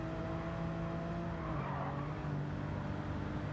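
Race car in the Gran Turismo 7 video game lapping the Nordschleife, a loud sustained engine drone with a steady tone that drops in pitch partway through, joined by a tire-squeal hiss, no talking.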